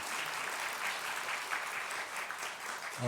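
A church congregation at a Sunday service applauds an award for Bible quiz participation, even, sustained clapping at moderate distance, with a voice starting right at the end.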